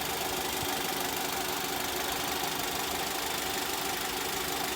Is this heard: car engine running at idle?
yes